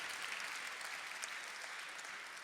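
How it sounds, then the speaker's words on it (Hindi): Audience at a Hindi kavi sammelan of comic poetry claps heartily for the poet, a continuous even wash of many hands, soft and somewhat distant. "भरपूर ताली बजाने वाली बात।"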